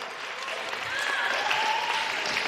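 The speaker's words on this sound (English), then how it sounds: "Round of applause. Round of applause." Sustained applause from an audience, a dense even patter of clapping with a few faint cheers, steady throughout.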